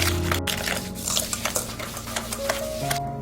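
Melted butter and sugar are mixed in a bowl for chocolate banana bread batter, with short scraping strokes and light clinks of a utensil against the bowl at close range.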